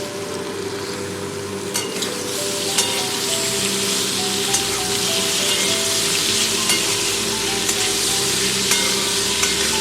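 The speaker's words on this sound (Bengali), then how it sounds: "ফুলকপি আর আলু ভালো করে ভাজা হয়ে গেছে, এবার দিয়ে দেবো কেটে রাখা পেঁয়াজগুলো।" Cauliflower and potatoes fry in a pan with onions added, giving a loud, dense, continuous sizzle close by with occasional sharp clinks of utensils; no talking.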